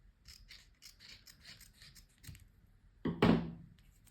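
Scissors trimming excess craft paper, a few quiet snips early on followed by a louder, nearer rasping cut near the end, with no talking.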